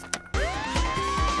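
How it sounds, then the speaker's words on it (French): A cartoon police siren rises in a sharp electronic wail after a brief knock, loud and near, with no talking. "Une sirène de police!"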